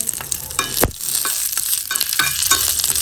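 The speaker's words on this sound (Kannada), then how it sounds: "ಹುರ್ಕೊಂಡು ಒಗ್ಗರಣೆ ನೋಡಿ ಇವಾಗ" Close, loud sizzling of hot oil with mustard seeds, dried chilli and curry leaves crackling, plus a few sharp scrapes and clinks of a spoon against the pan.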